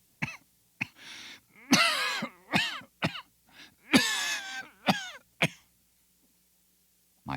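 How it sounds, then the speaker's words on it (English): A man's harsh, repeated coughing fits come in several bursts with throaty, rasping gasps between them, loud and close, then fading to silence at the end. "How long have you had that cough?"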